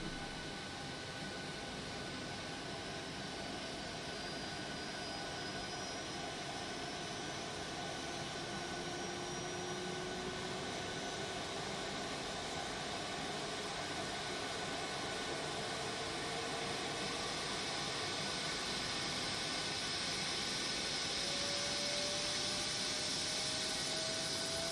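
A LevelUp 737NG airliner's jet engines in the X-Plane flight simulator give a steady, loud broadband roar with faint whining tones that slowly rise and fall, continuous and without talk for about twenty-five seconds.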